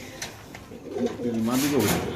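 Pigeons for sale at a market give soft, throaty coos, nearby and moderately loud, with a few clicks and shuffles around them.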